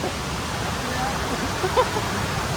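Water tumbling over Thombat Falls gives a steady, broadband roar that fills the whole clip, with a faint murmur of voices beneath it.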